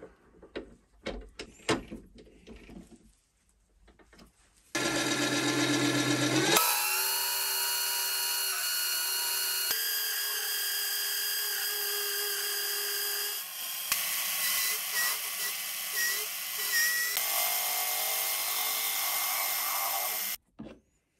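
A hand-made flycutter on a milling machine takes a light pass across metal, giving a loud, steady high-pitched whine that shifts in pitch partway through and holds for about fifteen seconds before stopping abruptly, preceded by some clattering handling noises.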